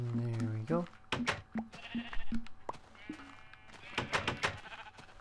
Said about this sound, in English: Why is there a sheep here?